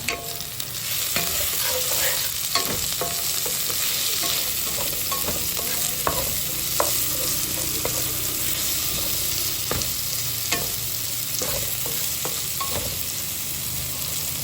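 Chopped tomatoes fry in a pan with a loud continuous sizzle while a spatula stirs and scrapes in repeated irregular strokes, close up and with no one talking.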